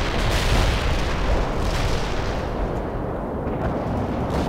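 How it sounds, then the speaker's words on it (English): Heavy artillery fire rumbles in the game World in Conflict as an artillery attack lands, a dense, loud, continuous barrage of booms and blasts that eases only slightly toward the end. "artillery attack is on the way"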